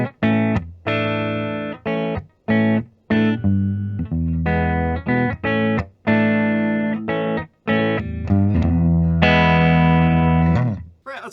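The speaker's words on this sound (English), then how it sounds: "You just heard the neck pickup." A 2018 Gibson Modern Double Cut semi-hollow electric guitar played through the neck pickup, warm and slightly overdriven, strumming chords in short bursts with pauses, ending on a long ringing chord.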